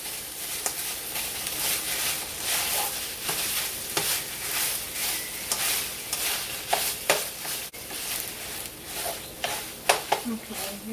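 Ingredients melting in a pan on medium-low heat sizzle softly while a utensil scrapes and stirs in repeated strokes, close by, with a person talking over it.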